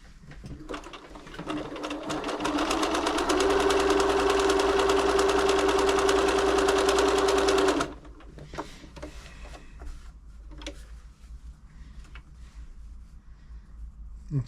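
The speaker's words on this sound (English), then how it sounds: "I'll do a zigzag now because that way shows up the bad tensions more." A Bernina B325 sewing machine stitches a zigzag, its motor starting up after quiet handling noises, then running loud and steady for about five seconds with a sustained whine before stopping abruptly, followed by faint clicks and fabric rustling.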